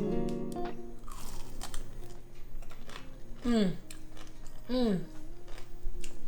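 Loud, close crunching bites into crispy potato chip crusted chicken nuggets, two sharp crunch bursts following initial chewing, with a person talking in between.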